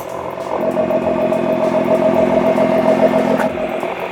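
A Nissan GT-R with an Armytrix aftermarket exhaust drones loudly and throatily, a deep steady rumble with slight revving, close by and continuous.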